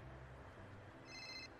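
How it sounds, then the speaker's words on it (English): A telephone rings for an incoming call, one short burst of bright electronic ringing, faint and alone. "Well, I'm getting a phone call."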